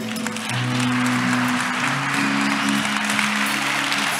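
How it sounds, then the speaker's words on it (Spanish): Audience applause at an institutional welcome event, a sustained, even patter of many hands clapping alongside guitar notes, holding steady for about four seconds. "suena la guitarra, la gente aplaude"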